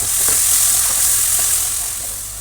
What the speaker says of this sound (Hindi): अब इसमें ये टमाटर और हरी मिर्चों के पेस्ट डालूँगी।